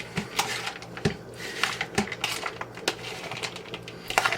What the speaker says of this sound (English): I'm just going to mix this all together in a bowl